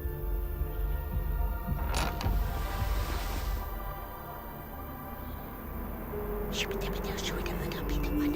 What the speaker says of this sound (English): it's just the door.